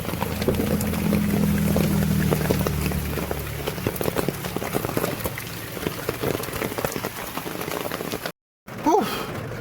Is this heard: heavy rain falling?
yes